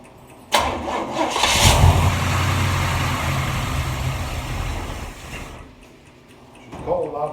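A 1947 Ford street rod engine starts from cold: a sharp crank catches into a loud, rough idle that runs for several seconds before dropping off, with a voice speaking briefly at the end.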